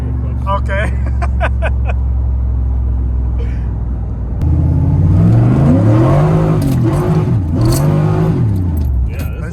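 Loud V8 Pontiac Fiero with a Holley Sniper setup pulls away as the engine revs rise and fall unevenly, suggesting a slipping stage 3 clutch, with keys jangling early and voices talking in the cabin.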